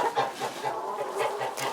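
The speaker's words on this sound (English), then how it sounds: "he's basically finding food, calling his hens, and bringing them over" A rooster makes soft, rhythmic food-calling clucks to his hens, a steady run of short low calls repeating about every fifth of a second, close and moderately loud with no talking.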